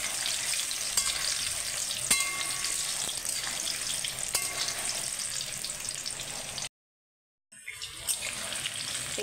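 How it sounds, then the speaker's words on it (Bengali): Pumpkin pieces fry in hot oil with a loud, continuous crackling sizzle and occasional clinks from stirring, cutting out briefly near the end. "এই যে আমার কুমড়োগুলো ভাজা হচ্ছে।"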